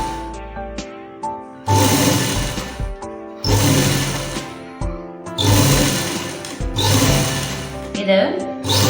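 Sewing machine stitching an umbrella skirt, loud bursts of rapid mechanical whirring in several runs separated by pauses, with someone speaking between them.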